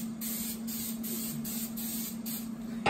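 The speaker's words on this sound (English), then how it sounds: "coconut oil spray." Coconut oil cooking spray misted onto tofu: a run of short, close hissing bursts in an even rhythm, with a faint steady whine underneath.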